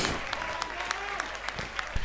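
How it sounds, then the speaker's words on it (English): Crowd at a non-league football match between Slough Town and Chesham United applauding a substituted player leaving the pitch, a distant, steady patter of clapping with occasional sharper claps nearer by. "He gets a big round of applause from the stadium here as he comes off."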